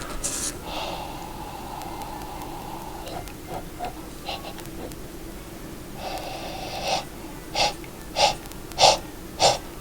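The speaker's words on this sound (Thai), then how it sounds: "ครูจะเป่าครั้งที่2ครูเป่าเป่าซ้ำไปรอยเดิมแหละ" A teacher blows breath onto a surface in a Thai primary science lesson about air, with several short, forceful puffs up close. Spoken Thai comes in briefly between the breaths, and the puffs repeat rhythmically toward the end.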